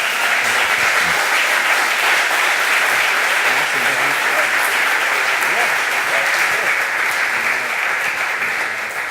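Dense, sustained applause from a seated audience after a business talk at a speaker-series event, loud and unbroken, with faint voices mixed in beneath the clapping.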